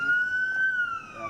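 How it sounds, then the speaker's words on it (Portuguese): A flood warning siren installed by local residents and set off automatically when the river rises, a steady gliding electronic tone holding one pitch with faint strain, clear but not close. "Juntaram dinheiro e instalaram a própria sirene, acionada automaticamente quando o nível do rio sobe"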